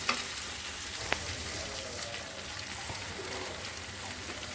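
Chicken sizzling in a pan while sauce and pepper are stirred through it for a Malabar-style kondattam, a steady close frying hiss with faint stirring scrapes and no talking.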